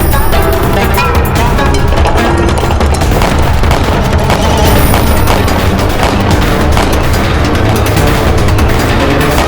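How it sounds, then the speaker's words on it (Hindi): Cannon fire and explosions in a battle scene from an Indian historical war drama. Loud booms and gunfire blend into a dense, continuous roar that stays heavy for the whole stretch. "हम खुद चलाएंगे तोप अभी।"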